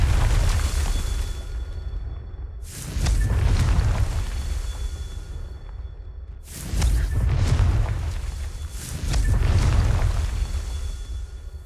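Confringo spell blasts in Hogwarts Legacy, three loud booming explosions, each with a sharp onset and a rumbling low-end tail, spaced a few seconds apart with no talking.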